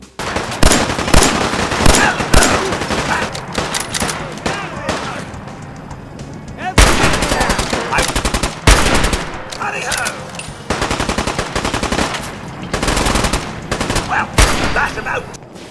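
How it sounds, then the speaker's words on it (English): Rapid automatic gunfire aimed at super mutants in the game Fallout 4, loud dense bursts of shots separated by short gaps, with a voice speaking at times among the firing. "there were super mutants attacking, so we had to shoot them"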